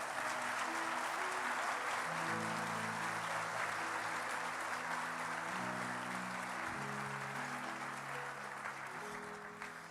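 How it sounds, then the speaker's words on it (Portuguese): Church audience clapping steadily for God, a dense continuous patter of many hands under sustained music with held tones, loud throughout and easing slightly at the end. "Aplauda a Deus, aplauda."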